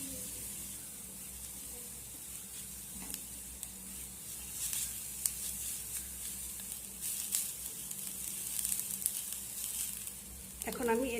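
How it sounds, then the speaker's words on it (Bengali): Grated carrot and onion stir-fried together in a pan: a soft, steady sizzle with light stirring scrapes throughout, rather faint and continuous. "এখন আমি এই গ্রেট করা গাজরটাও পেঁয়াজের সঙ্গে ভালো করে নেড়ে চেড়ে ভেজে নেব"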